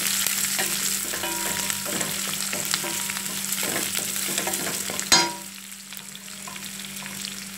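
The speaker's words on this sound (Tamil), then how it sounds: "ஒரு பெரிய வெங்காயம் கட் பண்ணி வச்சுருந்தேன், அதையும் இதில் ஆட் பண்ணிக்கிட்டேன். நல்லா வணக்கிக்கலாம் வெங்காயத்தை." Chopped onion sautéing with salt in oil for cumin rice, a steady close sizzle with spoon scrapes, then a sharp clatter as the sizzle drops to a quieter hiss; no talking.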